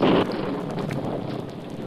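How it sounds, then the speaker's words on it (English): A rain and wind storm effect from an audio drama: a dense, steady roar of driving rain with gusting wind, loudest in a brief opening swell, then continuing evenly. "The rain, whipped by the wind, beat hard against the face of a slender girl"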